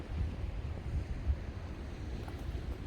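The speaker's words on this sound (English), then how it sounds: "Decent sized waves still, nothing huge. A couple of them are rolling over." Waves roll in onto the rocky Lake Superior shoreline near Duluth, a steady low wash of moderate surf mixed with wind rumble, fairly distant and continuous with no voices.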